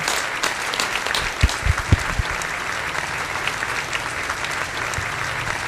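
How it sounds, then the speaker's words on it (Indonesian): Sustained applause from a stand-up comedy audience welcoming Batak comedian Edwin Samosir to the stage, a steady wash of many hands clapping with a few louder thumps near the start. "Tepuk tangan buat Edwin Samosir"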